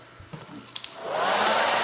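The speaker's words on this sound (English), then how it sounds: "my hair dryer is so loud" A hair dryer starts up and blows with a loud, steady whooshing rush that fills the second half, after a few soft knocks and rustles.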